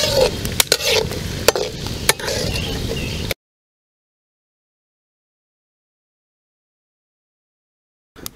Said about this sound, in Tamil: நெய்யில் முந்திரியை வறுத்து பொன்னிறமாக வந்த பிறகு எடுத்து வந்தான்.